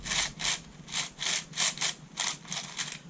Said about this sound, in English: just turning it, you can probably hear it grinding a little bit